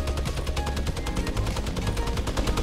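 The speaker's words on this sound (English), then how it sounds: "I'm getting so many shots off." A rapid, unbroken string of Fortnite gunshots cracks out at a fast, regular pace, loud and close, like sustained automatic fire, with no talking over it.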